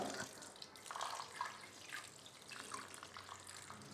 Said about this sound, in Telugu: ఇప్పుడు నేను చన్నీళ్ళు చూడండి, మంచినీళ్ళు నేను ఇలా పోస్తున్నాను